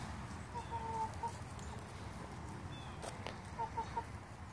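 Chickens clucking as they forage in an outdoor mulch pile, scattered short clucks and soft calls at moderate distance over a steady low rumble of background noise, with no talking.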